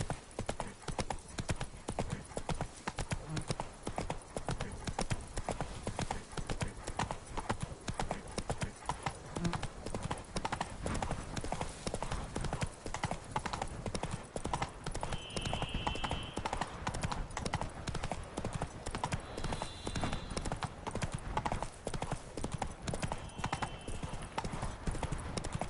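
A horse gallops steadily in Witcher 3: Blood and Wine, hooves clopping in a fast continuous rhythm for the whole stretch, with a brief faint whinny and a short spoken call over the hoofbeats.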